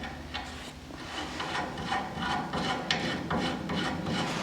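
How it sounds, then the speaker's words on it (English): A ball joint slides and scrapes into the upper spindle hole of a GT3 road race car chassis, giving a close, continuous gritty rubbing and rasping with small knocks, with no talk. "slide the ball joint in the upper spindle hole"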